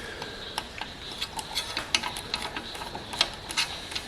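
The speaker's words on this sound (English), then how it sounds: "I just need to tighten it up and it will stay there. Grab a screwdriver." A screwdriver tightens a part on a homemade steering wheel, giving close, faint, uneven ticks and small metallic clicks in quick irregular bursts.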